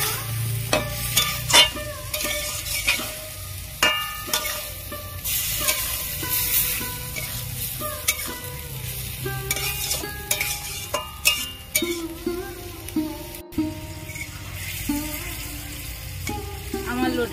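Whole lote fish stirred into a sizzling gravy, with a steady frying hiss under repeated spoon scrapes and knocks against the pan, close and continuous without any talking.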